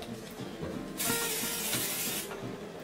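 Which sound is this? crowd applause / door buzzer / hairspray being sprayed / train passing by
hairspray being sprayed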